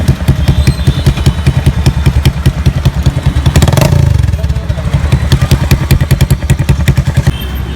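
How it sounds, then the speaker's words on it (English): A Bajaj Avenger 220 motorcycle fitted with a Punjab silencer runs close by, its exhaust giving a loud, steady, rapid thumping beat that swells briefly midway, with no talk over it. "Punjab silencer on a Avenger 220."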